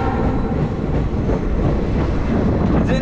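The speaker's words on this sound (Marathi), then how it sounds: "अजून मी ट्रेनमध्ये आहे बघा" Steady low rumble and rolling noise inside a moving passenger train heading toward Siliguri, continuous and fairly loud throughout, with no clear talk.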